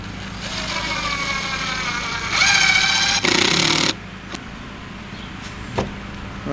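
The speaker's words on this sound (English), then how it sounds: "just lining it up even with the back and driving a couple of screws into it" A power drill drives screws into the wooden legs of a set of steps made from rough lumber, whirring steadily for several seconds, rising in pitch as the screw seats, then stopping, followed by faint knocks.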